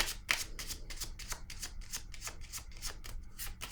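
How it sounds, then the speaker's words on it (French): Tarot cards shuffled by hand in a quick, even run of riffling strokes, about a dozen crisp bursts, close and clear with no voices. "Je vais piger une autre carte ici."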